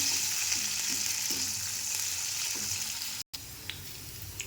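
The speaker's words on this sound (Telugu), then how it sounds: "ఆనియన్స్ పచ్చిమిర్చి ఆయిల్ జీలకర్ర మిర్చి మంచిగా ఫ్రై కావాలి" Onions, green chillies and cumin frying in oil give a constant bright sizzle close by, with a few faint stirring taps and a brief cut-out partway through.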